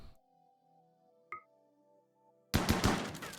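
A chain shotgun fires while hunting in Rimworld: a faint click and a short burst, then a loud rapid volley of repeated blasts near the end, standing alone over a quiet game background hum.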